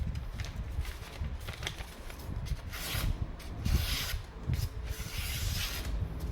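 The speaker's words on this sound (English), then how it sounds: "Let's try to cut a bit of paper." A knife blade rasps and scrapes through paper in a steady, raspy rubbing, close and fairly quiet, with a few short swishes.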